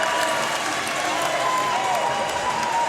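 Basketball crowd at a City College men's game against MiraCosta, sustained applause and cheering from the stands, dense and steady throughout the short stretch, with no clear talk over it.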